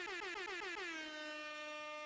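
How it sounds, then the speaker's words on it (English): An air horn blares as a sound effect, several quick stuttering blasts that merge into one long sustained loud honk that holds to the end. "Gotta let the air horns off"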